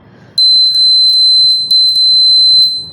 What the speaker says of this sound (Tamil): நம்ம கை வச்சா சவுண்ட் வரும்